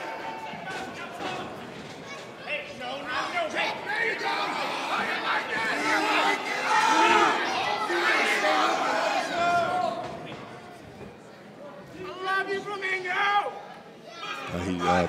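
Crowd at an NWA Powerrr wrestling arena in Chalmette, Louisiana cheers and chants in loud swelling waves, with a commentator talking over the noise.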